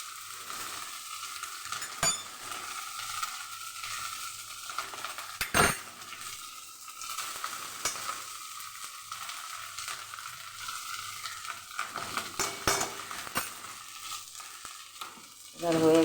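Rice is stir-fried in a pan with a continuous gentle sizzle, broken by sharp metallic clinks and scrapes of a utensil against the pan at irregular moments.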